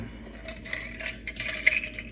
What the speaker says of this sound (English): Again, we get some ice cubes stuck, pour them out.